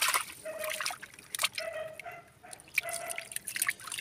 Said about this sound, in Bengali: এবার আমি এর মধ্যে জাস্ট অল্প করে এবার জল দিয়ে দেবো